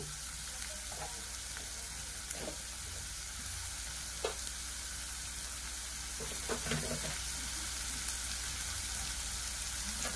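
Green chilies and onions fry in a pan of oil with a steady, soft sizzle, and a few sharper crackles and stirring scrapes stand out.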